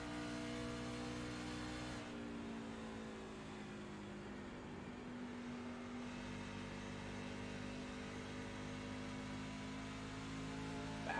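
Race trucks lap Nashville Super Speedway with a faint, continuous engine drone that shifts in pitch as they accelerate and go by at a distance.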